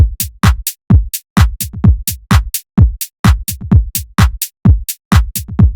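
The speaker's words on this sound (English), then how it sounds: "this drum loop that I made sounds like this" Minimal tech house drum loop with punchy kicks, crisp hi-hats and claps in a tight repeating groove, each hit sharp and dry with short gaps between, played alone at full level.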